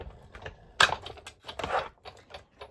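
A Big Shot embossing machine is cranked with an inked stencil fed through, giving a short run of close, dry clicks and ratcheting knocks with one louder burst of grinding in the middle.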